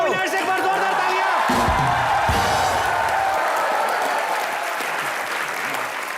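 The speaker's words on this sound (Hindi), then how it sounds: "एक बार जोरदार तालियां।" A studio audience at a television comedy show breaks into loud, sustained applause, a dense wash of clapping that holds steady and fades slightly toward the end.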